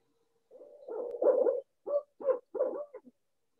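Recorded call of a barred owl: a series of low, rhythmic hooting phrases, rising and breaking into several separate hoots toward the end, fairly close and clear against a quiet background.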